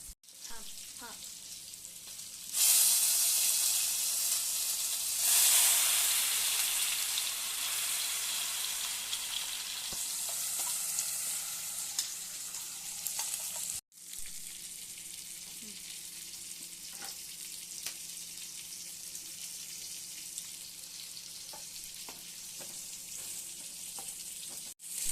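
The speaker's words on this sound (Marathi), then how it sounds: "तर आता मम्मीनी फ्राय करायला घेतले आहेत पापलेट" Pomfret fish frying in a pan, a loud, continuous close sizzle with bright hissing surges early on, settling to a steadier crackle with occasional light clinks, no voices.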